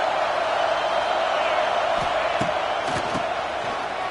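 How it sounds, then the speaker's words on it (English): A college football stadium crowd roars in a steady, dense wash of cheering, with a few sharper shouts and whoops rising out of the continuous noise. "This crowd ready to make its presence known."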